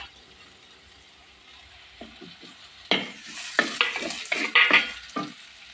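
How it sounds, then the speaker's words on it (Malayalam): A spoon scrapes and stirs grated coconut and spice powder sautéing in a pan for panikoorka chammanthi, giving soft sizzling with several close, brisk scraping strokes after a quiet start. "ആ പൊടി ഇടുവാണേ തേങ്ങ എടുത്തിട്ടുള്ളതിന് ആ തേങ്ങയുടെ വഴറ്റ് അതിലോട്ടിട്ട് വഴറ്റുവാണ്"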